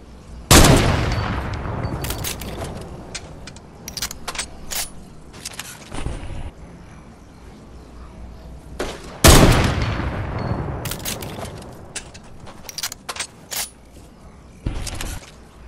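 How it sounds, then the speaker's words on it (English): Video game gunfire: two loud bursts of rapid automatic shots, each followed by scattered single shots and mechanical clatter, with quieter gaps between. "You're getting shot in the back."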